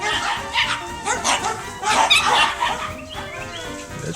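A pet dog named Maxwell barks at the neighbor's dog, giving close, loud, rapid yips and high excited barks that tumble over one another without pause.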